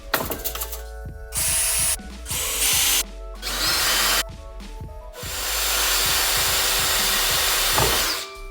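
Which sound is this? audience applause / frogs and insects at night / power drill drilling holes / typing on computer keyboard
power drill drilling holes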